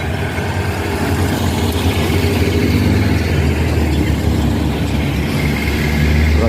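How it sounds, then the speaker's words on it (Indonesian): A stalled truck's engine drones on while the vehicle is towed up a steep hill, a loud, continuous low rumble with a steady throb and no talking over it. "Truk ini paksa ditarik dari bawah sana ya, dari Bukit Kodok dasar karena tidak kuat nanjak, ditarik ya."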